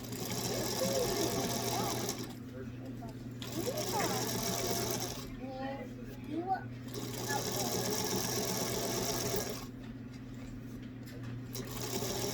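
A home sewing machine runs in steady whirring bursts with short pauses while back stitching a lavender off-the-shoulder dress, fairly close and moderately loud.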